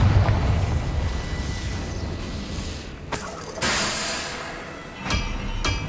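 A Confringo blasting spell detonates in the Hogwarts Legacy video game, a few sharp bursting booms spaced over a few seconds amid rumbling background noise.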